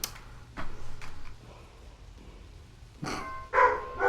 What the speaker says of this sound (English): My apologies for my dog barking.